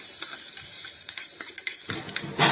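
Fish liver frying in a pan, with a close, continuous sizzle and intermittent stirring scrapes, swelling into a louder hissing burst at the end.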